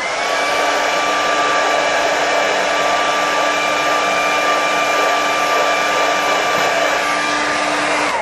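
A hair dryer blows steadily on a snow-scene painting, a loud continuous whine held at an even pitch, close and uninterrupted with no talking.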